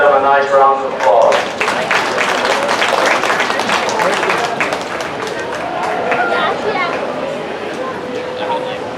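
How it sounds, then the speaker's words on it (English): An audience applauds for four youth-show sheep, a dense burst of clapping that swells loud at the start and tapers off, with voices and chatter mixed in across the arena. "Let's give all four of them a nice round of applause."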